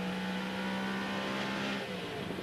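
Jimmy McRae's rally car drops a gear and brakes hard, its engine note holding a strained steady tone before falling away abruptly amid loud mechanical roar.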